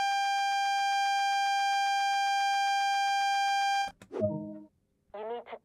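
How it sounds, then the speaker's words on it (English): A continuous electronic AWS self-test alarm in a Class 166 train cab in Train Sim World, a rapid pulsing buzz for several seconds, then stops abruptly, followed by a few short synthetic chimes. "That alarm is the AWS self-test system."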